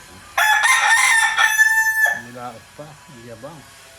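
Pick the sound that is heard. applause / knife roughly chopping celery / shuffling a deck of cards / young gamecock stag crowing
young gamecock stag crowing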